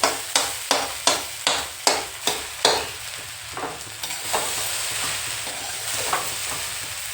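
A spoon scrapes through a desi ghee mixture in a hot pan with a quick run of about eight rhythmic strokes. The strokes give way to a steady, close sizzle with only occasional stirs.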